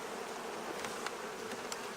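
Honey bees swarm thickly around an open beehive while it is being split with a caged queen, a dense, close, steady buzz with individual insects flitting past and no talking.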